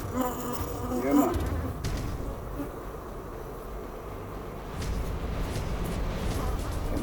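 Honeybees swarm and buzz around an open beehive during feeding with pollen and protein patties, a dense, steady drone that stays loud and close throughout, with no talk over it.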